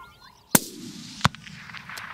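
Two loud, sharp rifle shots about 0.7 seconds apart ring out during an African plains hunt with impala nearby, each followed by a short rolling echo over quiet open ground.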